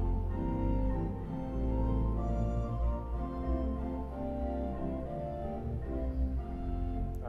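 A pipe organ in a Washington DC church chancel plays on a gedeckt 8-foot stopped flute stop, a soft, steady sequence of sustained, overlapping notes at even volume with no talking.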